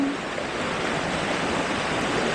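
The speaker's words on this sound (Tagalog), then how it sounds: "pagka ganito kalakas ang tubig, kaya parang may falls" A swollen river in flood after heavy rain, rushing so strongly it roars like a waterfall: a loud, steady, broadband wash of water with no pauses, heard up close.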